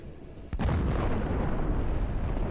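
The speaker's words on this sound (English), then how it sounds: "A precision drone hit causes a massive detonation." A massive detonation as a precision drone strikes a Russian tank: a sharp onset followed by a loud, sustained roaring rumble that fills the rest of the moment.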